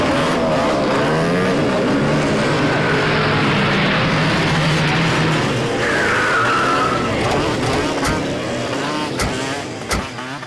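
Cars and motorbikes performing dangerous stunts, with loud revving engines, screeching tyre skids and racing passes close by, followed by several sharp impact-like cracks toward the end.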